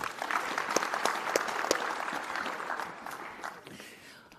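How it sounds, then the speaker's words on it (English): Conference plenary audience applauding a panel at the close of its discussion, dense clapping from many hands that holds steady for a few seconds and then gradually fades out. "One more round of applause for our panel,"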